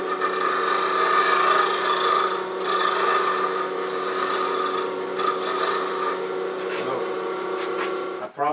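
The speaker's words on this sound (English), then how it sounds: "I'm going to do that with just a round nose scraper, just kind of touch it a little bit." A round nose scraper rubs against a wooden heirloom rolling pin spinning on a lathe, giving a steady, close rasping scrape over a constant motor hum, breaking off just before the end.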